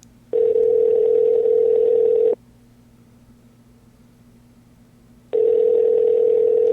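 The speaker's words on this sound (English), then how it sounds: "So we're calling Jeff" Ringback tone on an outgoing phone call: two long, steady electronic rings with a few seconds of line hiss between them, loud and close, with no talking.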